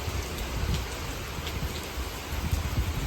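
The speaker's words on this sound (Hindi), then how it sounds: "तिरछी बारिश हो रही है भाई।" Heavy slanting rain driven by wind pours down steadily and close by, making a dense, continuous hiss and patter with no talk over it.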